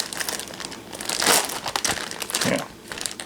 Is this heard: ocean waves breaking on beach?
no